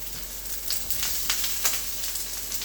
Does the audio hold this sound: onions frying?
yes